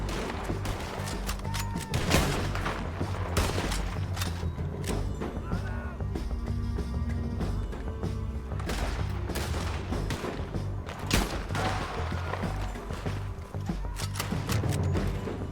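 Dense gunfire in the video game Red Dead Redemption 2: rapid, overlapping shots and booms in a continuous loud firefight, with a voice briefly heard amid the shooting.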